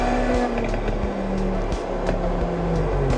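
Forza Horizon 6 game car driving off-road, a steady loud engine drone with a rising and falling pitch, tyre noise and gravel crackle, brief squeals and thumps over rough ground, no talking.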